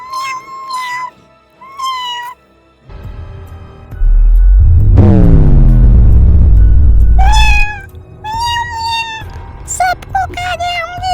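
A cat meowing as an effect in a Hindi horror story about a witch prowling a village forest in cat form: several sharp, wailing meows at the start and end, broken by a loud, deep rumbling swell with narration.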